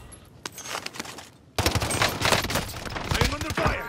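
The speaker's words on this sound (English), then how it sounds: "I am under fire." Dense, rapid gunfire rattles in Call of Duty Warzone on Rebirth Island on PS5: a few scattered shots first, then a loud, sustained barrage of overlapping bursts from about the middle onward.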